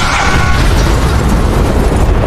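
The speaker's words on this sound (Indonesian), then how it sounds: "Tiba-tiba Bob menyalakan korek yang membuat tempat itu meledak." Explosion in a film scene set off when a lighter is lit, a loud, sustained roaring boom with rumbling low end filling the whole stretch, close and overpowering with no speech.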